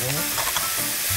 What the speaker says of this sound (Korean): 센 불로 볶으시면 돼요